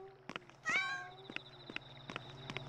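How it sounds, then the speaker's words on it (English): A cat meows once in the video game Yomawari: Midnight Shadows, a short rising cry over quiet game ambience and soft rhythmic footstep taps. "That's a cat."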